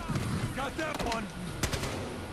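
Gunfire from the video game Battlefield Hardline during a heist match, a loud burst of rapid shots with sharp cracks near the start and middle, mixed with other game noise and a voice talking over it.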